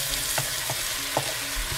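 Masala paste fries in a pan for a hilsa fish head and cabbage curry, a close, continuous sizzle broken by several soft scraping stirs.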